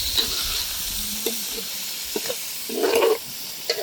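Spices such as chilli flakes and turmeric sizzle in hot oil in a pan for a chicken liver fry, a soft steady hiss broken by light stirring scrapes and a brief louder burst.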